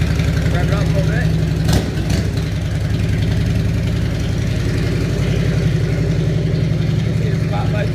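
A 1998 Harley Davidson Electra Glide Classic motorcycle engine after a cold start, a steady loud idle with a brief rev blip near the start, close by and continuous throughout.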